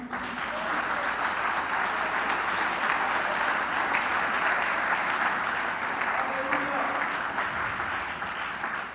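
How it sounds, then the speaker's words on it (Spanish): A church congregation claps together during a Spanish-language service, a sustained, even roar of many hands at moderate distance, with faint voices and calls rising underneath. "¿Le puedo dar un aplauso al Señor?"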